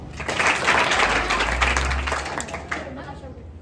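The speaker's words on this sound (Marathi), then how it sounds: "यासाठी टाळ्या." Applause from an audience at a Constitution Day quiz event, a burst of clapping that swells quickly, holds for a couple of seconds, then thins out, with voices mixed in.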